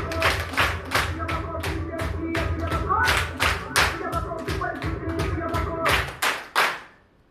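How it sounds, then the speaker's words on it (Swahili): An audience at a political gathering claps in a patterned, rhythmic run of sharp bursts, with voices mixed underneath and the clapping stopping toward the end. "Pigeni makofi moja"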